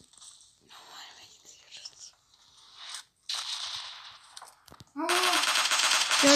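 M24 sniper rifle fire in the mobile game PUBG Mobile Lite, a few sharp gunshots and game effects across the clip, with a loud burst near the end, mixed with whispery background sounds.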